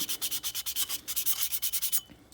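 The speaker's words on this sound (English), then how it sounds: "just hit it with the sandpaper" Sandpaper is rubbed by hand over an outboard boat propeller in quick, rhythmic back-and-forth strokes, around fifteen in a row, close and crisp, before stopping abruptly.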